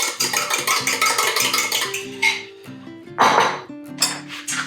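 Four eggs beaten quickly in a bowl make rapid, rhythmic clinking strokes close by, with steady tonal music underneath.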